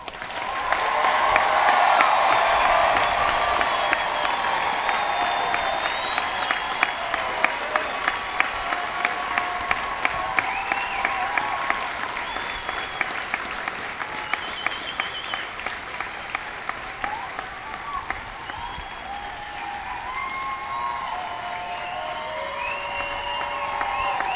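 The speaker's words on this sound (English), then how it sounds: "give them a round of applause" Audience applause at a BMT graduation ceremony in a large hall, a dense, steady clapping that swells loud at the start and continues for over twenty seconds, with some cheering mixed in.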